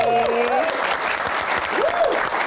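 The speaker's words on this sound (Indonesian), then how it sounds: "Tepuk tangan juga dong buat teman-teman mahasiswa yang ada di sini." Enthusiastic audience of university students clapping fills the room, dense and continuous, with a few cheers and raised voices mixed in.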